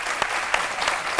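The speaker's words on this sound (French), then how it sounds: "Je voudrais qu'on applaudisse très fort, c'est super." A crowd applauds loudly at a talk by a footballer who has played since age ten, a dense, close burst of many hands clapping with a few sharper individual claps standing out.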